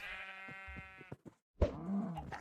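Sheep in Minecraft bleat in a couple of clear, close, wavering calls separated by short gaps, with soft game noises in between and no voices.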